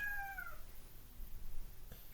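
A cat meows once near the start of a scene in the video game Breath of the Wild, a short rising-falling cry that fades after about half a second, leaving quiet ambient background.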